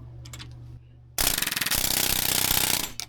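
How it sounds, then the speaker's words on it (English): An air hammer pounds at a rusted, stuck shaft on a vintage Polaris snowmobile skid, a loud, rapid burst of pneumatic impacts starting after a brief quiet stretch with a low idle hum. "Let's try the air hammer again."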